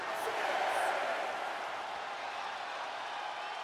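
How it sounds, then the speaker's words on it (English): A wrestling crowd at a last-man-standing match roars in a dense, steady wall of cheering, loudest in the first second and then holding at a high level. "The sound of this crowd is deafening"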